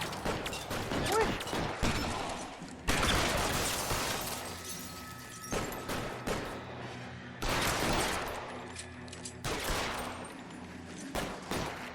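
Gunfire in L.A. Noire comes in loud, rapid volleys: dense rattling bursts separated by short pauses, with mechanical clatter between them.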